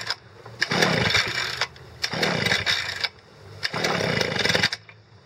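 A brand-new Tool Tuff 33cc gas backpack leaf blower's small two-stroke engine is pull-started; three loud bursts of buzzing engine noise rise and cut off with short gaps between them, close by and with no talking.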